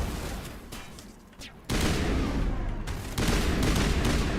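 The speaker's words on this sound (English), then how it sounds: "Okay, those rounds do some business. Oh, this is shotgun." Shotgun fire in the Mass Effect video game arrives as a series of heavy, booming blasts over continuous rumbling combat noise, the loudest hits landing in the second half.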